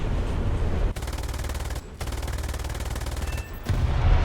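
Rapid machine-gun bursts from a Bf 109 E-7 fighter in War Thunder, two long loud rattling strings of fire separated by a brief pause, over steady engine drone, with no one speaking.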